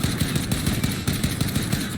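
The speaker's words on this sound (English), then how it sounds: "And I'm going to shoot again just so that you guys can kind of see the consistency" Rapid sustained fire from a DMR 14 rifle in Warzone, a dense even stream of loud close shots without pause, no talking.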